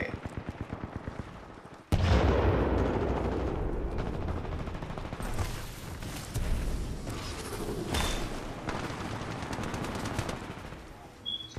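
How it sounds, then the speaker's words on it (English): Gunfire and a grenade blast in the Titanfall 2 shooter game: rapid automatic fire, then a sharp loud explosion followed by sustained shooting and scattered bursts, with someone talking over the action. "Chuck that grenade."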